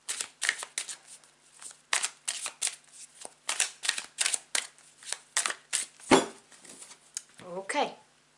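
A deck of tarot cards is shuffled and riffled in a long series of quick, crisp bursts of papery flutter, close and fairly quiet, ending with a brief slap of cards settling.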